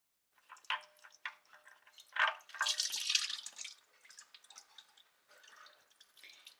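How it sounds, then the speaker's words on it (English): Engine oil drains from a Nissan 370Z in a soft, faint trickle and patter of dripping liquid, irregular and close, with brief louder splashes. "While the oil is finishing draining"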